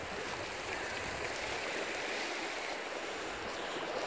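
A fair-sized creek flowing toward the Susquehanna River, its water giving a constant broad rushing wash that holds steady and fairly close, with no talking.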